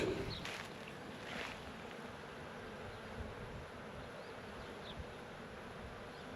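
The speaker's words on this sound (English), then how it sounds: "It looks like there's a lot of bees in between these 2 boxes" Many honey bees drone around hive boxes in a constant, low buzzing hum, with occasional individual insects passing close by against a quiet outdoor background.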